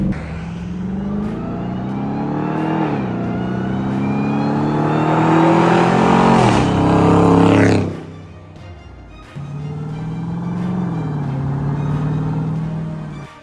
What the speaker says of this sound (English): You can hear the supercharger so much better now. The whine is so much louder.